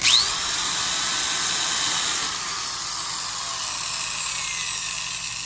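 Makita 6402 3/8-inch corded drill with a fiberglass-reinforced polycarbonate body running at speed, a loud, steady high-pitched motor whine and hiss after a brief spin-up, dipping briefly midway, with no talk.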